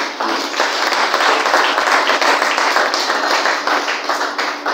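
Church congregation at a French-language thanksgiving service applauding, sustained dense clapping from many hands that swells and holds for several seconds without a break.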